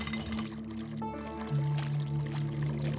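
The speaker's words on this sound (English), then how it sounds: "Let's let some water out." In the Spelunky 2 video game, water is let out and pours in a steady rushing trickle, layered over sustained tonal game music.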